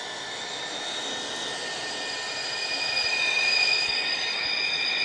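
A train rolls along in the Roblox game Mega Miners, a steady rumbling rail drone with high squealing whistle-like tones, holding even and rising slightly toward the end, with no voices.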